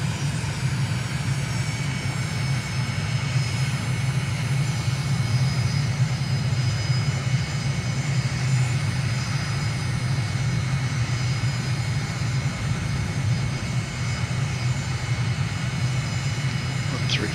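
A simulated jet airliner's engines drone steadily on approach in Microsoft Flight Simulator, a continuous low roar with faint high whine lasting throughout, with a voice talking over it at times.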